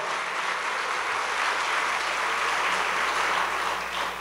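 A church congregation applauding, a steady, dense wash of many hands clapping together that holds at an even level for the whole stretch.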